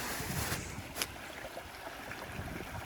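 A stream flowing outdoors in Canadian nature, a steady broadband rush of water that fills the whole stretch with a brief louder splash near the middle, no talk over it.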